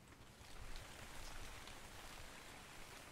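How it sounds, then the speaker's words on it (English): Steady hiss of rainfall in the video game ARK, an even wash of droplets with no pauses, moderately quiet and unbroken. "It's raining."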